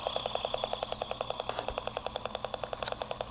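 A low-power LED oscillator running from a small 1.5-volt battery gives off a faint, steady electronic tone, pulsing in a fast, even rhythm throughout with a buzzy, slightly noisy edge.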